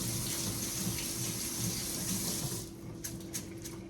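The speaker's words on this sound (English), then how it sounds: "3/4 a cup of parboiled rice, and I'm just going to give it a good rinse" Tap water runs steadily as parboiled rice is rinsed in a sink, a continuous close splashing rush that thins out and turns into scattered drips and trickles near the end.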